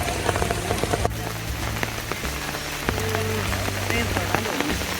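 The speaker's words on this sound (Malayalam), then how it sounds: "നല്ല മഴയാണ്" Heavy rain pours at the zoo in Trivandrum, heard from a sheltered resting area as a steady, close drumming on surfaces with a low hum underneath and faint murmurs.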